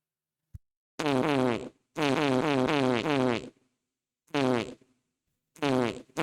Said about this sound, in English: we need 3 farts